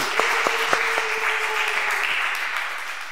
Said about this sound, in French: Acclamons notre Seigneur Jésus.